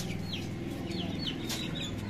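A hen clucks softly in short, repeated bursts in a village in Karachi against a steady low background hum, with no one speaking.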